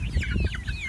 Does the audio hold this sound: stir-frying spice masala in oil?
no